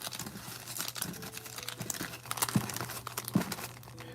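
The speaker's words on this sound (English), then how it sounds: "Just shuffle this up real good." Pokemon cards are shuffled by hand, giving a soft, steady rustle and papery crinkle with small clicks of card edges for several seconds, no voices.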